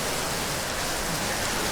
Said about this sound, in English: The sound of the rain is still very nice.